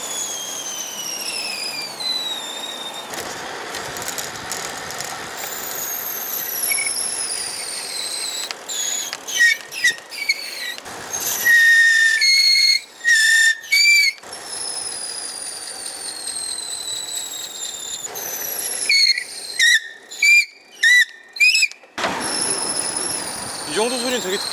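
Mavic Ksyrium Pro Exalith rims on a bicycle give loud, high-pitched brake squeals in long sweeping tones, broken by short bursts and brief silences, with some rattling mechanical noise underneath.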